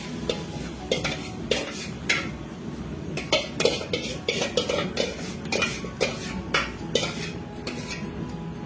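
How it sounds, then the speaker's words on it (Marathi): A spoon stirs and scrapes a cabbage and pea mixture around a metal pan, producing repeated close clinks and knocks over a soft sizzle, steady and irregular throughout with no talking. "हे आपण छान आता असं मिक्स करून घेऊया"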